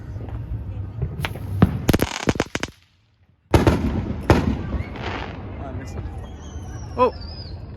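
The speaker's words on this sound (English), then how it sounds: "It's a crackle ball." A crackle ball firework bursts outdoors on New Year's night, loud sharp bangs followed by a dense, fizzing crackle, with a brief silence and then more pops, while a crowd chatters and cheers in the background.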